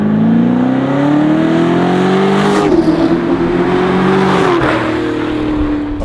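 A Fox Body Ford Mustang V8 with a custom X pipe, MagnaFlow exhaust and Holley Sniper EFI revs hard, its loud, close engine note climbing, dipping and rising again in a sustained throaty roar.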